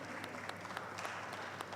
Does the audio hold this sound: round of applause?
yes